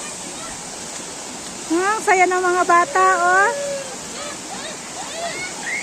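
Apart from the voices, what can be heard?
flowing river water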